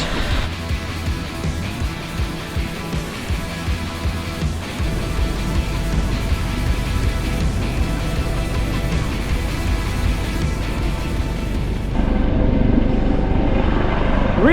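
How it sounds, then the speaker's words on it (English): A helicopter takes off nearby, its rotor and engine producing a loud, steady throbbing drone that grows heavier partway through and persists to the end. "There's a helicopter taking off over there. That's why it's so loud."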